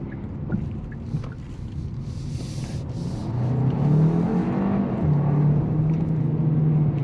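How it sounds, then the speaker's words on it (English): A 2024 Hyundai Kona N Line engine climbs in pitch as it accelerates hard, the exhaust growing louder and rising into a sustained drone, heard from inside the vehicle. "the exhaust notes make it pretty satisfying when you're pushing this car"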